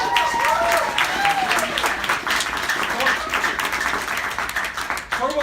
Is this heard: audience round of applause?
yes